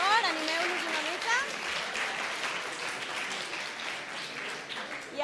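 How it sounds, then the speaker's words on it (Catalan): Studio audience at a Catalan TV word quiz applauds steadily throughout, a dense, even patter of clapping with a voice speaking over it. "I ara sí que podeu aplaudir perquè hem acabat aquest nivell 3."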